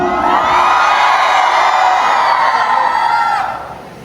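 A crowd at a garba dance workshop in Bhavnagar cheers and shouts together in one loud, sustained burst lasting about three seconds, then fades quickly.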